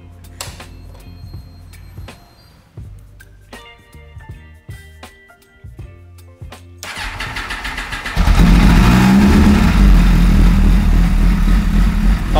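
A stock Honda F4 motorcycle cranks over with uneven starter clicks, then catches and fires into a loud, steady, close running roar.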